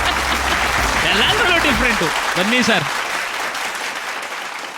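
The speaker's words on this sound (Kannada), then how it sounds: "ಫಸ್ಟ್ ಟೈಮ್ ಹೊಡಿರಿ ಚಪ್ಪಾಳೆ" Studio audience clapping on a Kannada couples reality show, a broad steady patter of hands running the whole stretch while a host speaks briefly over it, the clapping thinning slightly toward the end.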